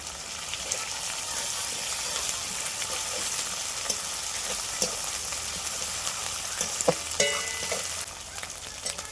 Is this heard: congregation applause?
no